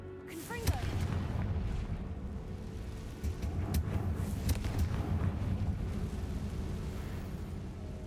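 Confringo blasting spell cast in the game Hogwarts Legacy, heard as a sustained rumbling, crackling roar of fiery explosions with a sharp onset near the start, loud and dense throughout with a faint voice underneath.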